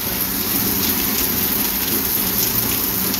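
Heavy rain pours outdoors in Tamaulipas, Mexico, a loud, dense and unbroken hiss of drops hitting surfaces close by, with no voices.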